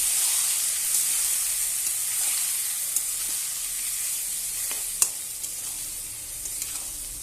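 Pieces of pumpkin fry in hot oil with a loud, continuous close sizzle and hiss, broken by occasional stirring clicks and scrapes, with no talking.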